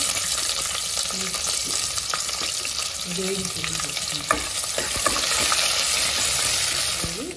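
Finely chopped onion frying with cumin and curry leaves in a pan for bottle gourd buttermilk curry, a steady close sizzle with occasional stirring clicks throughout.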